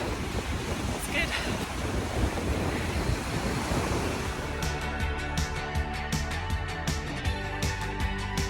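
Wind buffets the microphone on a flat, exposed low tide beach, a rough continuous roar with the soft wash of surf beneath, later joined by a rhythmic series of crunching footfalls from a runner.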